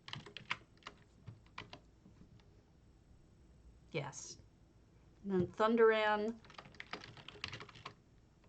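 Keys clatter on a computer keyboard in short bursts during a game stream, with a person talking intermittently over the typing.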